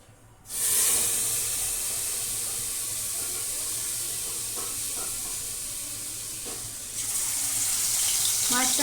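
Fish dropped into Fortune mustard oil in a wok sizzles with a loud, steady hiss that swells suddenly near the start, holds throughout, and brightens again near the end.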